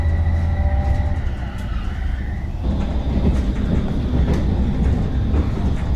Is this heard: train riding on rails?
yes